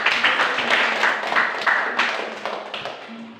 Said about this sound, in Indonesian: Tepuk tangan untuk Yasinta.